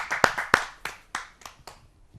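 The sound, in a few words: audience applause welcoming a poet at a Hindi kavi sammelan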